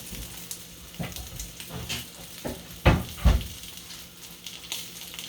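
Sausage frying on a stove for breakfast, a soft background sizzle broken by a few louder bursts and pops from the pan.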